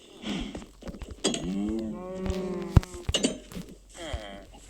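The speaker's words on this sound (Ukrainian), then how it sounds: "Тут загін з коровами." Cattle in a farm pen moo in long, drawn-out calls at close range, several lowing bellows in succession with clinks and light knocks between them.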